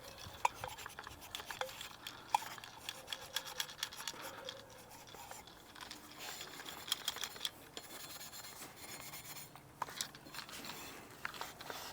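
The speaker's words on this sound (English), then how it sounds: "Just rub all this off with some steel wool." A GrillBlazer grill gun is scrubbed with steel wool, a faint, close, repetitive scratching and rasping with intermittent sharper scrapes, while someone speaks softly at times.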